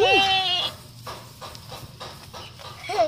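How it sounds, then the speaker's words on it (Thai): Sheep bleat at a sheep farm in Songkhla, one loud wavering call opening and another rising at the end, with soft rustling and a voice under the quieter middle. "น้องร้องแกะมันร้องมาเลยอ่ะ"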